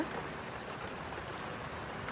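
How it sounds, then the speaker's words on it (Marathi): Sudden rain, with hail, falls on a village during a festival: a steady, dense hiss of downpour striking surfaces, continuous and fairly even, with no voices. "अचानक पाऊस आला"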